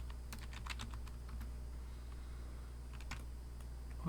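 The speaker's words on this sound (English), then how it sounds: "type host name" Quick bursts of light key clicks on a computer keyboard, a short run of typing then a pause and a few more taps, quiet over a low steady hum.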